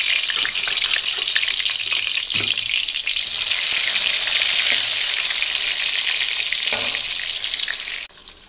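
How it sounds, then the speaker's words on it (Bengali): Aubergines fry in hot oil with a loud, continuous close sizzle and crackle, a couple of faint knocks in the pan, and the hiss drops away at the end; no one speaks. "দেখো বেগুনগুলো সব দিয়ে দিয়েছি, বেগুনগুলো ভেজে নেব।"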